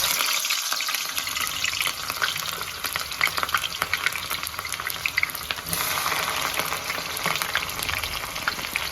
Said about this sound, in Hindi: इसमें डालूंगी मैं पहले प्याज को हम थोड़ा सा कच्चा पक्का करेंगे